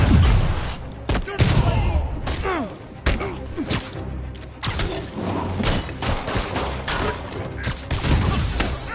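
Gunfire in the PS4 game Marvel's Spider-Man: rapid bursts of shots and heavy thuds of combat impacts crowd the fight, loud and close, with a character's voice speaking between the hits.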